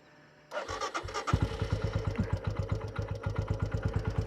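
An adventure motorcycle engine cranks over a few times, catches and settles into a steady, rhythmic idle, close and clear with no talking.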